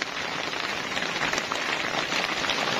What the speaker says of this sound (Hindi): सड़क के ऊपर बादल जमा हुए हुए हैं और बारिश भी हो रही है।